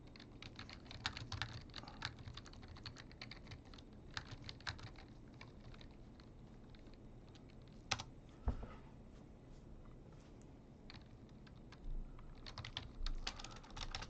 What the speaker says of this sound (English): I'm typing wrong